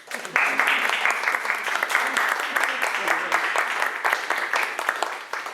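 Applause after a poetry recital at a Sábado Poético gathering in Itzamna: a steady, dense wash of clapping from a small audience, sustained at even strength throughout.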